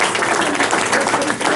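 A brief burst of dense group clapping in a training session, continuous and fairly loud for its short length.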